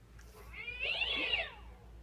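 A cat gives a single drawn-out meow, fairly faint and close, rising and falling over about a second against a quiet low hum.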